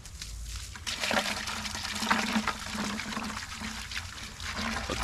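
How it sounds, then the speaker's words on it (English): Water splashes and gurgles steadily into a container, a close, continuous pouring sound with no voices. "I'm going to go get some water and put it in the bucket"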